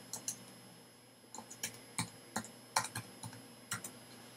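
Computer keyboard being typed on to enter a username and password, with sparse, irregular clicking keystrokes in short bursts, close and fairly quiet, no voices.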